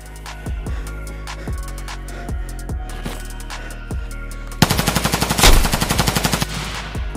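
Automatic gunfire in the video game Escape From Tarkov, opening with a series of separate bursts and then a fast, loud, sustained rattle of rapid shots near the end, with no voices.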